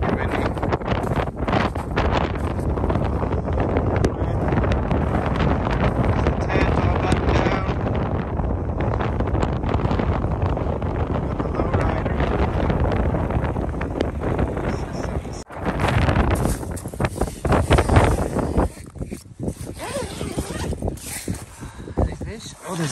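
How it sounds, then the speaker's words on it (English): Strong wind blasts across frozen Great Slave Lake during ice fishing, roaring and buffeting the microphone in loud continuous gusts that swell and ease toward the end. "It's super windy."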